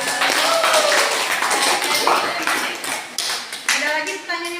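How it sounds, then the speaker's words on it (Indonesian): A small group claps after a presentation, a short patter of hands close by, with voices talking over and between the claps. "Oke, kasih tepuk tangan dulu bisa."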